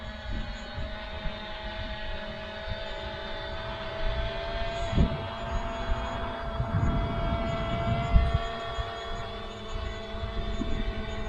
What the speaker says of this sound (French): Et le drone commence à tourner.